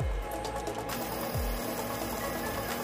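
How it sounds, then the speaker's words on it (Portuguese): Extruder gear on a 3D printer spinning and slipping against filament, a steady close whirring drone with a low repeating thud and a faint high whine, continuous and alone. "a engrenagem tá girando falsa"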